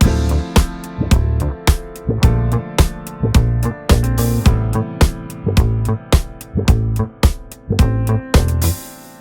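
Funk drum groove run through an Oxide tape plugin on the Kick Bump 808 preset, with thick, warm kick and snare hits, a steady hi-hat and a deep bass line in a repeating loud pattern.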